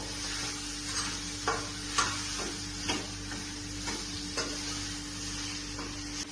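Potatoes cook in a pan for a fasting khichdi dish, a steady soft sizzle broken by regular spoon scrapes and taps about once a second, close and unaccompanied by talk.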